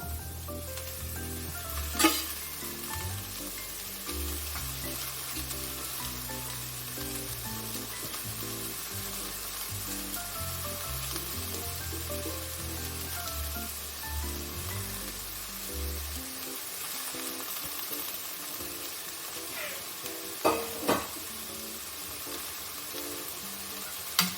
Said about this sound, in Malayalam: ശേഷം നമുക്ക് ഈ ചീര ചേർക്കട്ടോ.